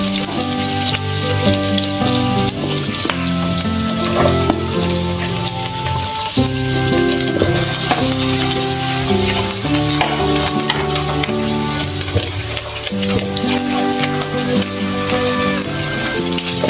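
Chopped onion frying in a pan makes a loud, continuous sizzle with stirring, while tonal background music plays along throughout and no one talks.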